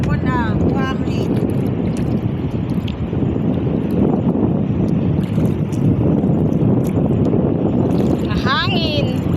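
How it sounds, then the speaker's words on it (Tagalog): Strong wind blows steadily along a beach where fish are being caught, with loud gusty rumble and microphone buffeting throughout, a brief voice near the start and again near the end. "Mahangin."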